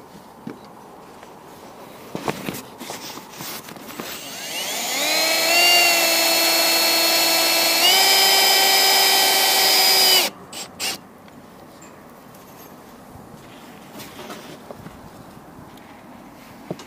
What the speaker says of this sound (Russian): Дальше берем шуруповерт и прикручиваем вот эту откосную часть.